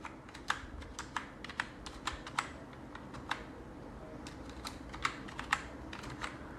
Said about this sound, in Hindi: डिस्क्रिप्शन में हमें इलेक्ट्रॉनिक गुड्स टाइप करना है